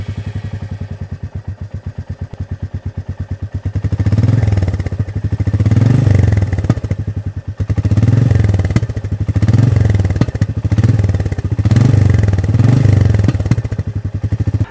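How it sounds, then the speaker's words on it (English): A Royal Enfield Meteor 350 motorcycle engine idling with a deep, steady thump, then revving in repeated surges that rise and fall, close and loud, no talking. "The moment you start the machine, you realize the iconic thump of the engine remains Royal Enfield."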